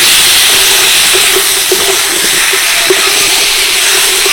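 Potatoes frying in a pan with turmeric, ground chilli-cumin paste and small tomatoes, giving a loud, steady, close sizzling hiss with faint pops throughout and no talking.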